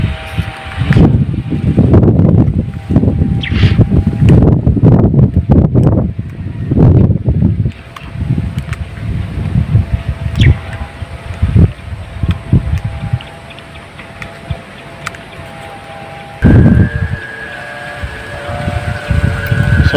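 Strong typhoon wind gusting and roaring outdoors during a kite flight, loud broadband rushing that swells and fades, with brief voices and handling noises mixed in.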